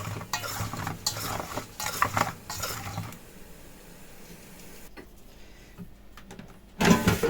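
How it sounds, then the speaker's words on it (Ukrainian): Potato chunks for village-style air-fryer potatoes are tossed with a teaspoon of oil in a bowl, giving about three seconds of close clinking and scraping stirs, then a quiet stretch before a short final scrape. "І тепер все це добре перемішую."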